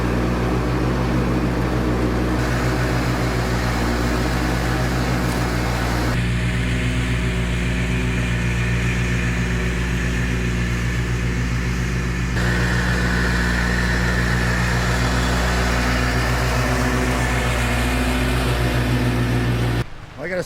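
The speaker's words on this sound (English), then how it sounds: "so I need to get the tractor out. We're going to get the mower out." Lawn tractor mower engine running steadily at an off-grid cabin, a continuous mid-pitched drone that holds nearly unchanged for a long stretch, close and loud, ending abruptly.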